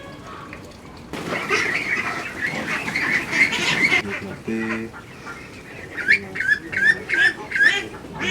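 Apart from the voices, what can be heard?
ducks quacking on a duck farm in Boyolali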